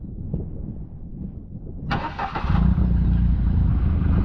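An aftermarket remote start cranks a John Deere Gator utility vehicle, a short churning crank that catches into a steady, close, loud idle, with a low rumble holding to the end.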